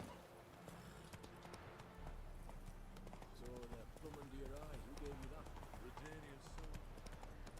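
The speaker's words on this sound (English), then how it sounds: "We'll just spawn in a horse." A horse runs in The Witcher 3 with rhythmic hoof clip-clops that are quiet and steady, while a voice talks over it in quick, animated bursts.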